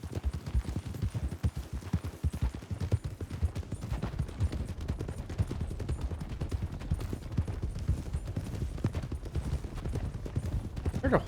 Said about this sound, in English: I swear I heard a horse off to the right.